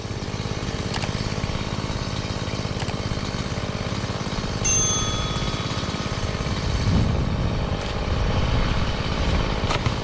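A STIHL MS180 chainsaw runs loud and steady throughout, its engine droning with a brief high whine partway through, close to the listener.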